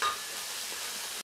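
Onion sautés in hot oil in a pan, making a steady, close sizzling hiss that holds evenly and then cuts off briefly at the end.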